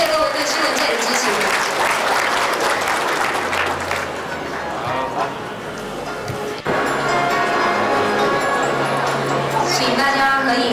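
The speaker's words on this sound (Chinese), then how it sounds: "请大家鼓掌，谢谢各位对新闻界的支持。" An audience at a press reception celebrating National Day in Hong Kong breaks into sustained, loud clapping, with a voice speaking over it and music playing along.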